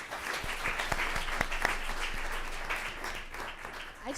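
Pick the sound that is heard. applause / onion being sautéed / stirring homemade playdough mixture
applause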